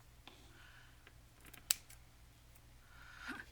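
A single crisp snip of scissors cutting paper for a tag stands out against a quiet background, with faint rustling before and after.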